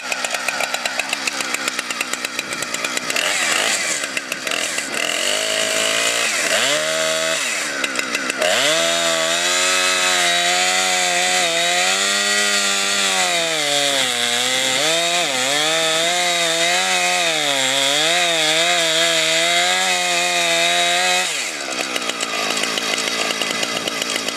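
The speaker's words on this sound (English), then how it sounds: "we're gonna be starting the chainsaw" A chainsaw roars continuously, its engine pitch dipping and rising as it bites into wood, then revving back up to a high whine.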